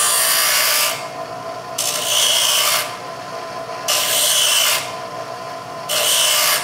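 A bench grinder wheel grinds thin feeler gauge steel into a lock pick, with three loud bursts of rasping contact against the workpiece separated by quieter stretches of the wheel spinning freely.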